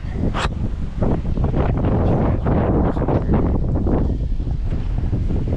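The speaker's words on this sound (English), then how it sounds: "that wind is picking up" Strong gusting wind roars outdoors, buffeting the microphone with steady broadband rumble and brief surging rushes throughout, no voices, while a Coleman Outfitter is being worked on.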